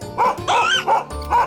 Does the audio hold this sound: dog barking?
yes